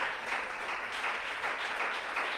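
Church congregation at a Sunday service applauding: dense, sustained clapping from many hands, steady and fairly close for the whole moment.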